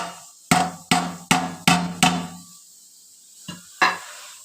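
Cooked moong dal puttu is knocked out of a pot onto a plate with five firm, evenly spaced thuds, then a pause and two softer knocks, close and resonant with no voices.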